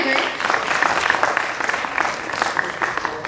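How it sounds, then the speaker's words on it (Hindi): An audience at an open mic event claps heartily. The applause is dense and steady and fills the whole stretch, close and fairly loud. "जोरदार तालियां हो जाए।"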